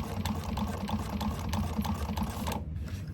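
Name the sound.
sewing machine back stitching fabric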